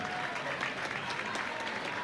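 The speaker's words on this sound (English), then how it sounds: "Give them a round of applause, folks." Audience applause at a high school girls' basketball event, a steady wash of clapping throughout with no pauses or talk.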